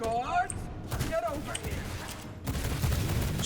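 Pistol gunfire during a boss fight against Voltatia the Powermaster in a video game: a steady run of sharp shots over busy game sounds and music, with someone talking over it.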